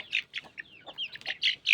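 Chicks of a yellow rooster cluck and peep in a rapid series of short, high, close calls, about eight bursts in under two seconds, with no talk.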